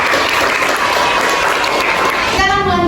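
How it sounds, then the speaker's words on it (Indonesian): A classroom of high school students claps together in a steady burst, with a voice speaking briefly as the applause ends. "Berikan tepuk tangan kepada video."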